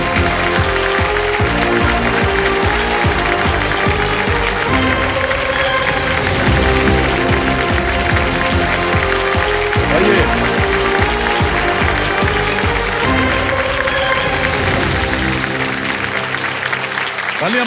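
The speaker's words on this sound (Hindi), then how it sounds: "तालियां बजती रहे रश्मि जी के लिए" Studio audience on a TV quiz show, Kaun Banega Crorepati, applauding steadily and loudly for a contestant, a dense continuous clapping wash over faint background music.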